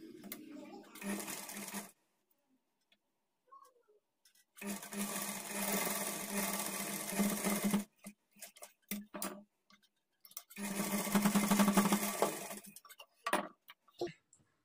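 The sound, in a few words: sewing machine stitching blouse edge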